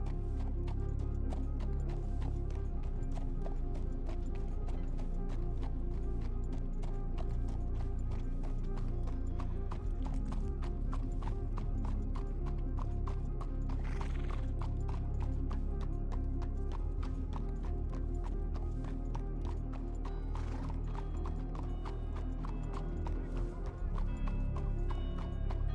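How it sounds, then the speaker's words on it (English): Horse hooves clip-clop in a steady, quick rhythm through the whole stretch in a WildRP video game, with a horse whinny or two amid constant loud game ambience. "There's horses here."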